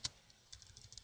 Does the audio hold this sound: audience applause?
no